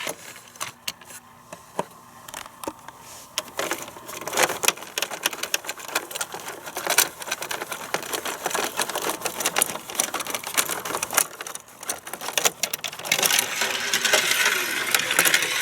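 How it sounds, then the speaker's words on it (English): A plastic Matchbox parking garage toy's elevator mechanism runs, a dense rapid clatter of ratcheting clicks and rattles close by that grows busier and louder toward the end, with no talk. "It also has an elevator to take you to all of the levels."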